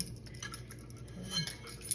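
Metal keys jingle and clink softly as they are pulled out of a bag, a run of light scattered jangles at close range with faint background rumble and no talk.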